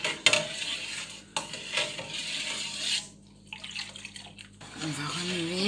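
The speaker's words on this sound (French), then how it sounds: "On va remuer." A spoon stirs homemade Marseille soap laundry liquid in a container, giving soft scraping and sloshing with a few clinks against the sides. A voice talks intermittently through it.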